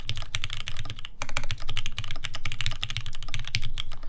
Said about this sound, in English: when I have it off and I'm just typing regularly